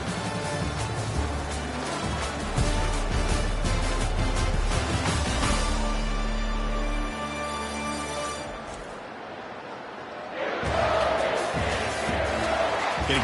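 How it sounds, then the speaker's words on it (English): Football stadium crowd in Michigan swelling into a loud, sustained roar as the defense holds in the red zone, with a brief dip before the noise surges again, broad and distant-sounding. "the crowd coming to life here, trying to help this defense down in the red zone"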